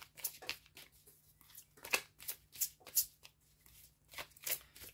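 Oracle love cards are shuffled by hand in a steady run of papery riffles and swishes, each burst close and crisp, with brief pauses between strokes.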